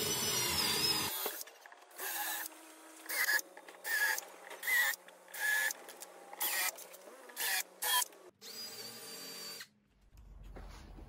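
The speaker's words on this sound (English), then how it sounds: "I mark 10 points along the runners where I will pre-drill holes with the countersink ready to attach the screws." Power drill with a countersink bit pre-drilling holes into wooden runners for a cross cut sled, in a series of short, loud whirring bursts separated by brief pauses, with no talking.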